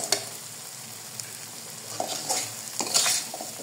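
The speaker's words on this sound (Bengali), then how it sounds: "আর একটু ভালো করে ভুনিয়ে নেব" Koi fish frying in a thick spiced masala, a low steady sizzle with several scraping stir strokes and utensil clinks that grow busier toward the end, close and moderately loud with no talk.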